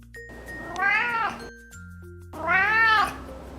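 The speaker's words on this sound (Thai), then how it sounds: "มีเสียงร้องที่ฟังแล้วเหมือนแมวป่าค่อนข้างมาก" A Bengal cat meows twice, wild-cat-like long drawn-out calls with a rising then falling pitch, close and clear with quiet pauses between.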